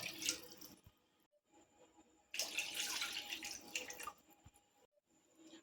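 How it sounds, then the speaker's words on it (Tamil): Water, measured by the cupful, pours into a saucepan for sooji kesari in two short, quiet splashing bursts separated by a pause, with faint clinks. "ரவை எழுந்த அதே கப்லேயே நம்ம மூணு கப் அளவுக்கு தண்ணி சேர்த்துக்கலாம்"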